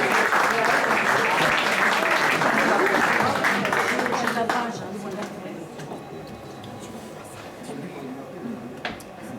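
A crowd at a Valentine's show claps loudly for a singer, a thick wash of hands for about four seconds before it drops to a quieter room hum with a few stray claps.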